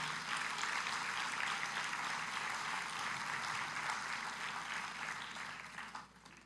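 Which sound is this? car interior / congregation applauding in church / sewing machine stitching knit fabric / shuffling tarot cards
congregation applauding in church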